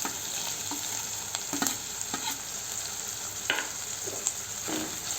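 Chillies frying in a pan on low heat for paneer bhurji, with a steady oily sizzle and scattered soft scrapes of stirring throughout, no talking.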